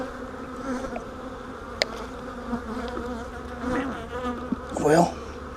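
Honeybees buzz steadily and close by while a beehive is opened for inspection, a continuous insect drone with a few louder swells and small knocks of hive equipment.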